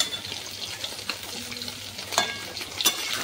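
Koi fish frying in oil in a wok, a steady soft sizzle with a few sharper crackling bursts and stirring scrapes near the end, close and moderately quiet.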